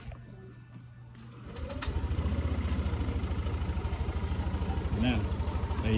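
A motorcycle engine idles to warm up after an oil change, starting quietly and then settling into a loud, steady, rapid low putter that runs close by to the end.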